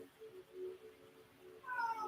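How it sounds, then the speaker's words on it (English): A house cat meows by the door, a few short rising cries toward the end, moderately close, after quieter tonal sounds earlier. "Is that the cat by the door?"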